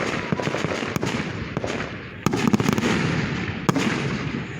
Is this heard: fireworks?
yes